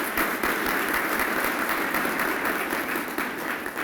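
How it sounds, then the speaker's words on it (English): Applause from an audience at a municipal meeting for the city manager, a steady wash of clapping that stays even and moderately loud throughout, with no voices on top. "y'all join me in giving him a round of applause"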